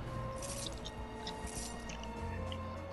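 A Fortnite character wading into water: continuous sloshing and dripping splashes over a steady low game hum, fairly quiet and unbroken, with no talking.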